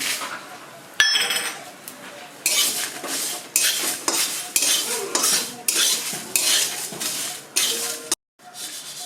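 A utensil repeatedly scrapes and stirs dried chilies, fenugreek and fennel seeds in a metal pan, with rhythmic strokes, clinks and a faint sizzle.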